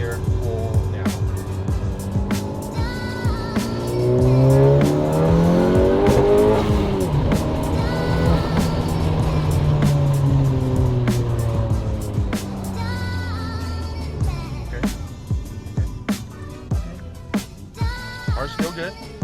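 A 10th-generation Honda Civic Si with a misfire problem accelerates hard in second gear, its engine note rising loudly and steadily through the pull with tire and road noise before easing off, while people talk over it.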